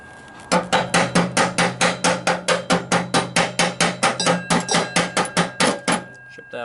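Welding slag is chipped off a mowing deck with rapid, evenly spaced sharp metallic hammer taps, about two dozen strikes in a steady close rhythm before stopping.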